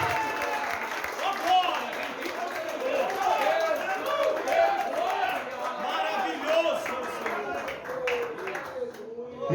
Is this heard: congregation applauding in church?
yes